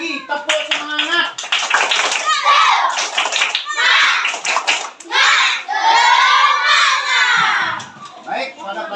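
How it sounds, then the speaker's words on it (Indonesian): Children in a classroom perform a rhythmic clapping chant led by their teacher, loud bursts of hand claps mixed with shouted young voices, repeating in quick patterned groups close by. "Sekali lagi, tepuk semangat."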